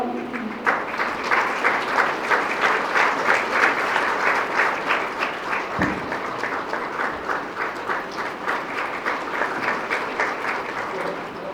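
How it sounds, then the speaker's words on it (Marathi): A hall audience breaks into sustained, even applause honouring a chief guest at a Women's Day felicitation in a college in Sangamner, many hands clapping steadily and loudly for the whole stretch. "सर्वांनी टाळ्या."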